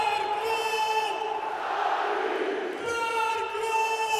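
Handball arena crowd roaring and cheering after a goalkeeper's save at a European championship match between Serbia and Sweden, a sustained, dense wall of voices with whistles, swelling then easing and rising again, with a commentator's voice faintly over it.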